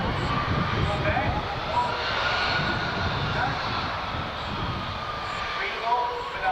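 Engines of a Boeing C-17 Globemaster III jet at the 2024 Dayton Air Show produce a steady, moderately distant roar that swells and eases slightly over a murmuring crowd.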